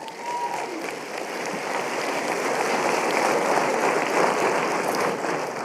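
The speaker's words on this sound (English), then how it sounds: "let's clap that out" Audience applause fills a graduation ceremony hall, a broad steady wash of many hands clapping that swells slightly and holds for several seconds.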